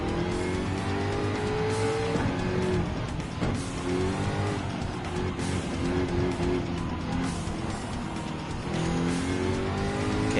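Race car in Gran Turismo 7 accelerating hard down the full straightaway at Autopolis in a World Touring Car 800 event, a loud steady engine roar climbing through gears with brief tire squeal, continuous throughout.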